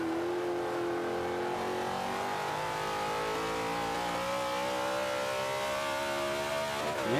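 A Z06 Corvette in the racing game Forza 5 pulls hard, its engine note climbing steadily through the revs, loud and close, then dropping at an upshift near the end.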